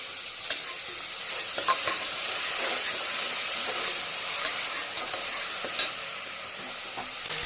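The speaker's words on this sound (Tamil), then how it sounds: "இஞ்சி பூண்டு வெங்காயம் எல்லாமே நல்லா வதங்கிடுச்சு." Ginger, garlic and onion sautéing in a pan, with a steady close sizzle and hiss and a few scattered stirring clinks, and no voices over it.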